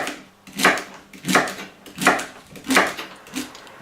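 A knife chops celery stalks on a board in about five evenly spaced, fairly loud thuds. The stalks crunch with each cut and the gaps between cuts are quiet.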